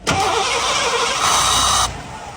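A 1987 Ford car engine cranks and catches close by, then runs loud and steady for about two seconds before cutting off abruptly.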